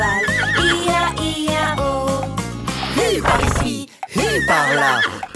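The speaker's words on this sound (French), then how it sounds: "Dans cette ferme il a un cheval." A horse neighs within a French children's farm song about Old MacDonald, loud whinnying cries over the music's bass and backing.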